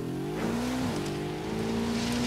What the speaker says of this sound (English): I'm riding the motorcycle.